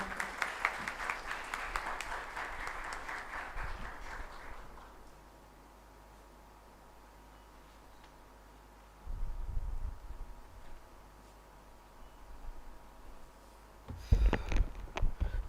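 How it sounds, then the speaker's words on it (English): Audience applause for a judge at a lecture event, a broad patter of clapping that carries for about five seconds and then fades into a quiet room with only occasional low rumbles and shuffling. "A huge round of applause for Sir"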